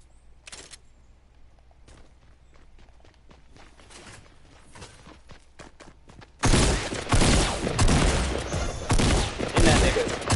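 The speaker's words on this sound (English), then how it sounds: "Just hop down and shoot them." Soft footsteps and scattered shots lead into a loud, sudden burst of rapid gunfire while shooting enemies in Fortnite, the volleys continuing to the end.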